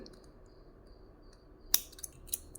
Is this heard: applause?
no